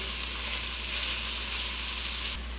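Carrots and peppers sizzle steadily in a hot pan for Bulgarian moussaka, a continuous bright frying hiss with a soft low hum underneath and no voices.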